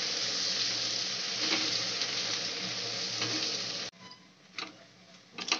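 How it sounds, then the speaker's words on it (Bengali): Onions sizzle and fry in a pan for a Bengali chicken curry with taro roots, a steady loud hiss that drops off sharply near the end, leaving faint scattered clicks of stirring. "পেঁয়াজটা ভালো করে ভেজে নেব।"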